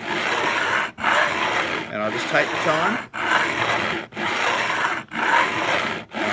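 Guitar frets are filed by hand with a rasping metal file, producing rhythmic scraping strokes about once per second, each cut off by a brief pause, while a person talks partway through.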